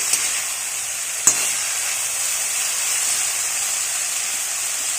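Snake gourd curry sizzling and frying steadily in a pan after the lid comes off, a continuous bright hiss with one sharp clink of a utensil early on; no voices.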